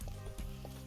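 Garlic and lemongrass frying in a pan until lightly browned, giving a short burst of steady, close, loud sizzling.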